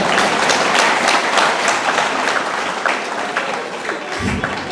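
Audience at a graduation ceremony for a Tech for Kids promotion applauds in a sustained, dense burst of many hands clapping that stays steady before tapering slightly at the end.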